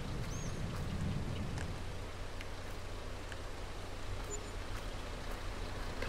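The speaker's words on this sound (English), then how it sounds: "Get back out of this rain." Steady rain falls in a Farming Simulator 22 forest map, a continuous soft hiss of drops with no talking, holding at an even moderate level throughout.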